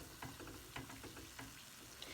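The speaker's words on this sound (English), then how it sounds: "Now it's deep frying, so there's quite a bit of oil in there." Caribbean dumplings deep frying in a pot with plenty of oil, a quiet, continuous bubbling sizzle with small crackling pops throughout.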